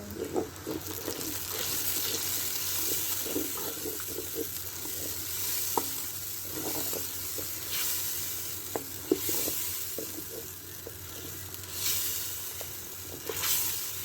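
Ginger, garlic and tomato paste is stirred into aloo keema in a hot pan, giving a steady sizzle with scattered scrapes and taps of a spoon, a few sharper clinks over the hissing, and no talk.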